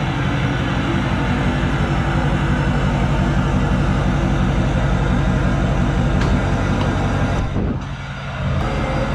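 A loud, steady truck engine drone fills an enclosed garage with a dense, booming rumble, reverberant and continuous, dipping briefly near the end.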